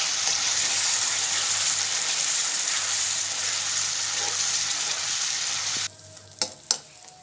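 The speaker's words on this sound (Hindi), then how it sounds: "जब तक हमारी टमाटर की ग्रेवी से तेल नहीं छूटने लगता तब तक हम इसे भूनेंगे।" Tomato gravy with Kashmiri chili and spices sizzles steadily in a pan for methi matar malai, a continuous close frying hiss that cuts off near the end, followed by a couple of sharp utensil clinks.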